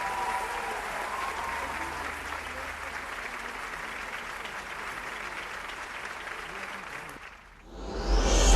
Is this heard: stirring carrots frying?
no